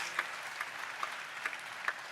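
A church congregation claps in a slow, even rhythm, about five faint claps spread over two seconds against a soft hall ambience, with no speech.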